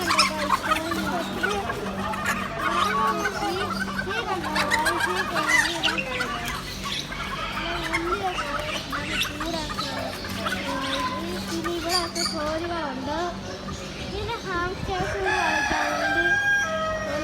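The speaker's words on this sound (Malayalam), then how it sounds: "കോഴിയുണ്ട്" Chickens cluck and a rooster crows repeatedly inside an Al Rai pet shop, with a busy, indoor background of mixed animal noise and faint voices.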